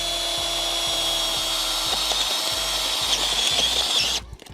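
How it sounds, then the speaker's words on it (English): An earth auger drill bit bores into firm dirt, a steady loud motor whine with rhythmic low thumps of the bit churning soil, running alone until it stops abruptly near the end. "we're gonna test out these hole drillers. This is pretty firm dirt, so if these can drill through this, then they're pretty good."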